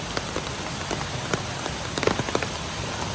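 Rain falls steadily near a waterfall in Lanja, Ratnagiri, in Konkan, a dense close patter on surfaces, probably an umbrella, with occasional louder individual drops, and no talking.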